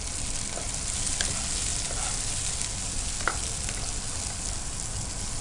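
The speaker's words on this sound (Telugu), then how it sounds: "ఇవి ఎక్కువగా కూడా మనకి ఫ్రై అవ్వనవసరం లేదండి లైట్గా ఫ్రై అయితే సరిపోతుంది" Semiya vermicelli and chicken lightly frying in oil and ghee, a continuous close sizzle with a few soft ladle taps and stirring scrapes, no speech.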